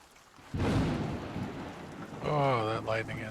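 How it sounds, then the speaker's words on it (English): A thunderstorm in the survival game Escape the Pacific 2 brings a loud thunder crack over steady rain, with a rumbling swell later and a voice speaking over it. "Oh, that lightning is so loud."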